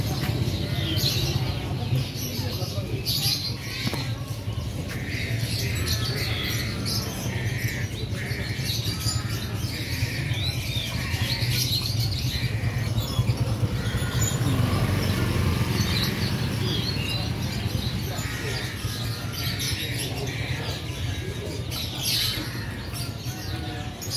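Pigeons coo and birds chirp and squawk amid a busy, crowded bird market in Jombang, Indonesia, with murmuring voices and steady background bustle.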